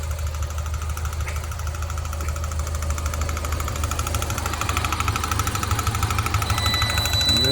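Ford Ranger engine running with a rapid, steady metallic tapping from under the valve cover, a loud continuous clatter over the engine drone, with no voices.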